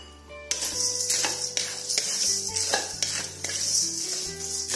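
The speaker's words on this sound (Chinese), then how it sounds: "继续翻炒多两三分钟就可以了。" Dried chilies, Sichuan peppercorns and peas being stir-fried in a wok, with a metal spatula scraping and clanking repeatedly against the pan over a steady close sizzle, no voices.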